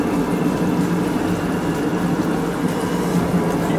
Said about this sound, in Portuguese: Deixa eu ver se está saindo água.